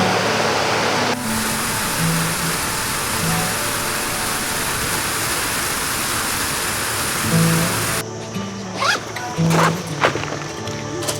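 A steady, broad rush of a waterfall in Thailand fills the clip, loud and constant, with brief faint bird calls and a shift in tone near the end.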